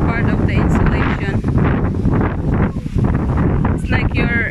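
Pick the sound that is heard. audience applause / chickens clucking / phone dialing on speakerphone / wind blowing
wind blowing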